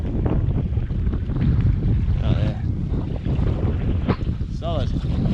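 Strong headwind roars steadily across the microphone while sea kayaking off Wardang Island, a loud continuous rush of wind with the open sea around it.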